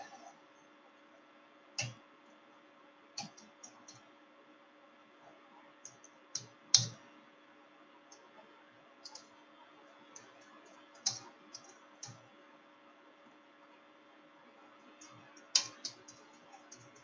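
Sparse, irregular keyboard clicks and keystrokes at a computer while entering client information, faint and close against a steady low hum, with pauses of a second or more between small bursts.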